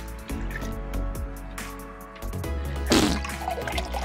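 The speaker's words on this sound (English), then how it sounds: "I'm gonna add just a little bit of water and a splash of ammonia." Water and a splash of ammonia poured into a glass beaker, a short trickle and splash of liquid close by, with a brief louder pour partway through and no talking.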